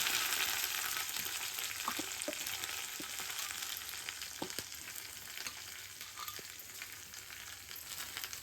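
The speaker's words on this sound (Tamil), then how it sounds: "இது எல்லாமே ஒன்றா போட்டு தாளிச்சுக்கலாம். சவுண்டு வரப்போகுது." Garlic, curry leaves and raw plantain sputter in hot tempering oil, producing a dense close sizzle. Scattered spoon taps and stirring scrapes break through it, and no one speaks.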